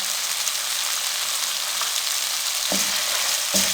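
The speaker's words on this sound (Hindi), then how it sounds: "अब बारीक कटी हुई सब्ज मिर्च डाल देंगे।" Steady, loud sizzling of finely chopped green chilies frying in a pan with a few soft stirring knocks near the end.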